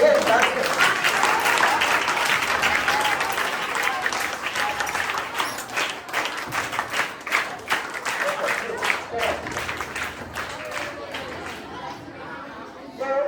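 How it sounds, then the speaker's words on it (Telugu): A school audience applauds during a communication-skills session, with dense, sustained clapping that thins out toward the end. Chatter and voices mix in beneath it. "ఒక క్లాప్ గ్రౌండ్ పెట్టాలి"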